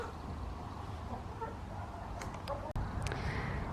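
Chickens in a farm chicken run cluck softly and intermittently over a steady, dense outdoor background, with a brief sharp knock partway through.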